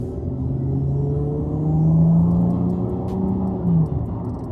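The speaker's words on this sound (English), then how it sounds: "For this car being 20 years now, the acceleration and power delivery feel very smooth." A 20-year-old Infiniti G35 Coupe accelerating smoothly, heard as a steady engine drone whose pitch climbs gradually and then eases off, with road rumble underneath and no talking.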